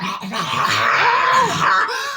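A voice imitates a dog, growling and whining in a rough, wavering tone, loud and close for a couple of seconds.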